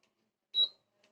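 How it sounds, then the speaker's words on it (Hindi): An induction cooktop lets out a single short, high electronic beep after being switched on with an incompatible aluminium non-stick pan on it; the room is otherwise nearly silent. "तो आपको सुनाई दे रहा होगा कि एक आवाज कर रहा है बीप का"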